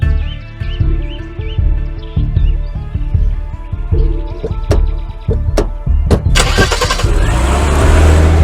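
A car engine cranks and catches with a loud start at close range, then settles into a steady rumbling idle, with a musical score playing underneath the whole time.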